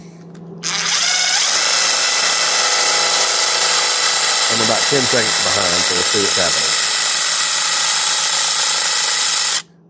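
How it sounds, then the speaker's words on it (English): An electric drill runs steadily at close range for nearly the whole stretch, a bright sustained whine with a brief choppy burst in the middle, while someone talks over it. "So I apologize for the drill noise"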